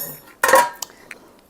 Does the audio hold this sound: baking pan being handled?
yes